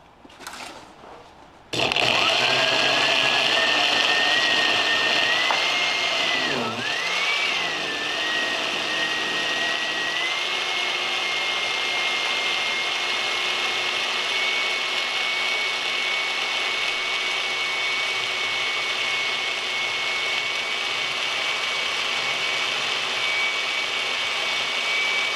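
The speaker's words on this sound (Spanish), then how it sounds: "Vamos a licuar nada más." A blender whirs at high speed blending a chile sauce made from dried chiles, a steady loud motor drone that starts abruptly after a short quiet moment, briefly dips in pitch, then holds on without any voices.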